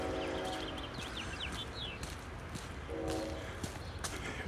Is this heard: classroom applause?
no